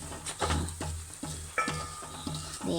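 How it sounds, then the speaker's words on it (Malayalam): Turmeric and spices sizzle in hot oil in a pan while a spoon stirs them in quick scraping strokes, close and fairly quiet, with no talking. "ഞാൻ നല്ലോണം ഇളക്കി കൊടുക്കാം."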